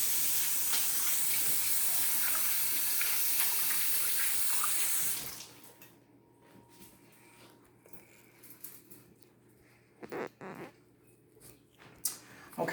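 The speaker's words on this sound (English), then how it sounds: "I'm going to wash my hands beforehand" Water runs steadily from a tap during handwashing, a close, loud hiss for about five seconds before it shuts off, followed by quiet handling noises and a few faint knocks.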